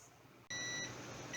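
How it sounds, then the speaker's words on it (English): A kitchen timer beeps sharply and steadily after a brief quiet moment, set while jars boil on the stove for cleaning off mold and rust residue; the tone is loud, close and continuous. "the timer's going off"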